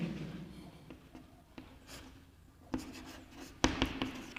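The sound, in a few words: chalk or pen writing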